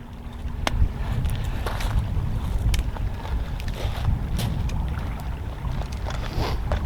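Steady wind blows outdoors by the water on a bright day at a lure fishing spot, a continuous rushing buffet of wind noise against the microphone with no talking.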